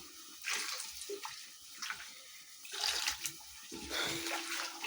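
Warm water poured from a container over kale in an outdoor village cooking setting: splashing pours in several uneven bursts, close and moderately loud, with brief pauses between them.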